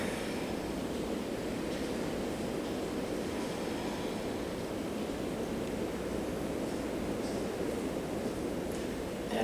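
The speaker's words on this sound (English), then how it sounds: "It's pouring right now, and it is my favorite sound in this studio" Heavy rain pours outside a yoga studio as a dense, even rush that holds steady throughout, heard from indoors with no speech.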